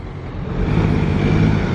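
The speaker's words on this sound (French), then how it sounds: "Et le bruit que vous entendez, c'est une autre Aventador qui est derrière moi." A Lamborghini Aventador engine behind on the road, a steady low rumble that swells slightly louder and holds, heard alone without talk.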